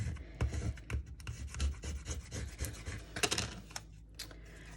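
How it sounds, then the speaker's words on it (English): Transfer tape is scraped and rubbed onto a glitter tumbler in short, faint, rasping strokes, an irregular series of close scratchy rubs with small bumps in between. "Gonna turn it over, scrape it on the back."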